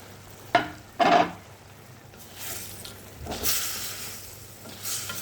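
Small puti fish are added to a pan of boiling curry, making a few close sizzling and splashing bursts, then softer bubbling and hissing continues.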